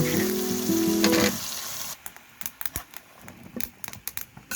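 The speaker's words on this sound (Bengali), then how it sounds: "সবজিটা আমি ভালোভাবে কষে নেব" Winter vegetables sautéing in spice masala in a pan: a loud hiss at first, then quieter sizzling broken by sharp, irregular scraping and stirring clicks, close up and without talk.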